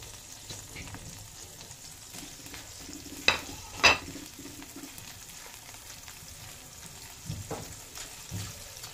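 Garlic browns in a frying pan for a Filipino pork giniling with hotdog, a soft steady sizzle with a few sharp spatula scrapes and clinks against the pan, close by.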